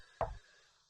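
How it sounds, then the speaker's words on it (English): A single knock on a door in a visual novel game, one short dull thud that fades quickly in an otherwise quiet moment. "I heard the sound of the knock"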